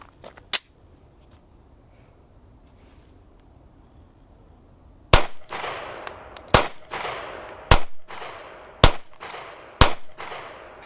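Taurus GX4 micro 9mm pistol firing 124 grain FMJ rounds at a range: five sharp, loud shots spaced about a second apart, each with a brief ringing decay, after several quiet seconds.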